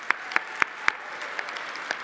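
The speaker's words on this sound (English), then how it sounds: "Please give her a round of applause." Hands clap at a holiday gala in a few sharp, evenly spaced claps that soon thin out and fade. The claps are fairly close, with no talking over them.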